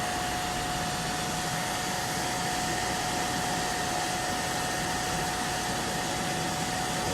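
An old hairdryer blows hot air to heat thin plastic for welding. It gives a steady, even whoosh of airflow with a faint constant whine, close and unbroken throughout.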